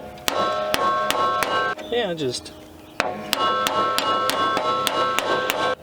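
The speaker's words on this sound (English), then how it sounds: "channel locks are not hammers, but they make a good hammer" Channel-lock pliers used as a hammer, striking parts of a badly damaged lawnmower during repair: sharp, loud metallic taps repeated at a steady pace up close, with a brief pause holding a squeak and a few spoken words.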